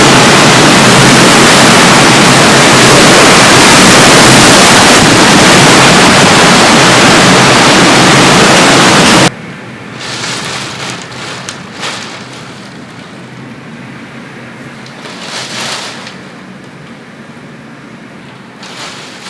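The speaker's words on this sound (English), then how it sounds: "We just had a 90-mile-an-hour wind gust recorded about a mile south of us on" Hurricane Ian hits North Sarasota, Florida, with 90-mile-an-hour gusts: a roaring, saturated blast of wind buffeting the microphone for about nine seconds, then dropping to a lower, uneven howl with occasional surges.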